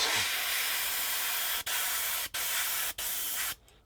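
Steady close hiss of spray paint laying base coats on model railroad track, a continuous spray broken by three very brief pauses before it stops.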